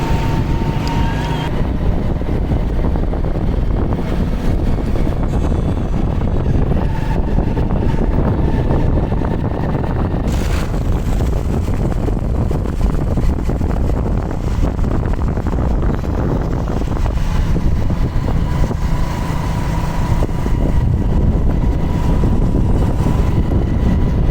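Motorcycle on a rural road past harvested wheat fields, its steady engine and road noise mixed with heavy wind buffeting the microphone, continuous and loud throughout.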